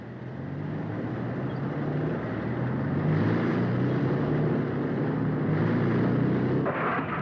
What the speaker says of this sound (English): Recovery vehicle engines in transmission.